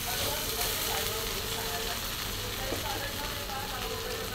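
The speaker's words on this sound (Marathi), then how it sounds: "चला यामध्ये मी ना पोहे टाकून घेणार आहे बघा" Poha (flattened rice) frying in a hot pan, a dense, even sizzle and hiss holding steady and fairly loud throughout with no talk.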